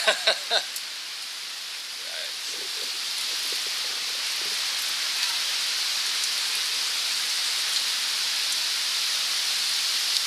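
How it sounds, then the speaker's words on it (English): Heavy rain pours on Huahine in a dense, even hiss that swells and stays loud and constant after a few sharp knocks at the start. "Jeez, the noise. All of a sudden, it's like heavier rain."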